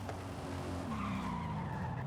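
A car in the video game Forza Horizon skids with a drawn-out tire squeal over engine roar, the pitch sliding as it slews, loud and close with no talk.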